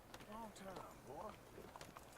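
Horse hooves clip-clop at a walk across the ground in Red Dead Redemption 2, soft irregular thuds under someone speaking in the foreground.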